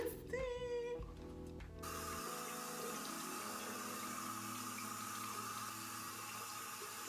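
Tap water runs steadily into a sink as a charcoal face mask is washed off, a close, even gushing hiss following a brief burst of handling noise at the start.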